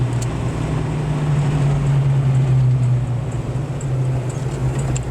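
A 1986 Ford Mustang V8 with stainless steel shorty headers while driving, heard as a loud, steady low engine drone from inside the car, holding an even cruise with no clear revving.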